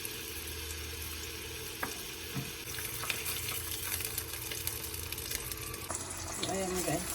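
Garlic for garlic fried rice sizzles steadily in a pan nearby, a soft crackling hiss with occasional scrapes and clinks of a utensil, and a brief voice-like sound near the end.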